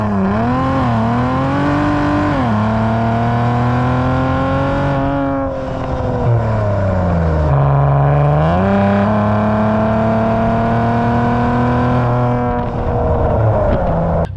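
A tuned 525 hp Infiniti Q50 engine revs close and loud, its pitch rising and falling through several sweeps, then settling into a steady drone and climbing again, with no talking over it.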